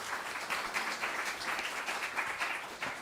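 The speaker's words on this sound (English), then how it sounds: "Let's give them a final round of applause." Audience applause for the panel speakers at the close of a conference session on Polynesian origins and migrations, a soft, moderately distant patter of clapping lasting a few seconds.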